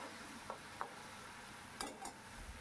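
Masala for Afghani egg curry being sautéed in oil, a faint steady sizzle with a few soft spatula scrapes and taps as it is stirred, no talking.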